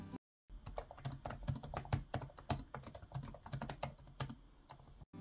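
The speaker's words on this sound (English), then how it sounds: "The keys are pretty silent too." Quiet keys of a Lenovo IdeaPad Slim 5i 16-inch laptop with a full number pad being typed on, a fast, steady run of soft clicks heard close and alone.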